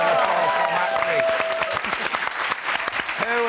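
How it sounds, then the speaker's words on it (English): An audience applauds warmly for Max, a young actor at a studio interview, steady close clapping from a small crowd across the whole stretch, with a voice speaking over the start. "let's have a nice little round of applause for Max"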